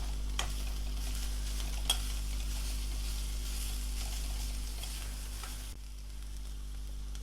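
Ginger frying with green chillies and curry leaves in hot oil, a continuous close sizzle with occasional stirring knocks against the pan and a low steady background hum.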